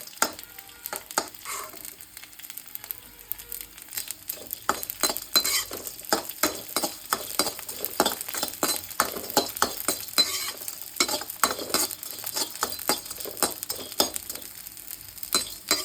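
Moong dal roasts in a pan for laddoos while a spoon stirs it repeatedly, producing rapid, irregular scraping clicks over a light sizzle, close up with no talking.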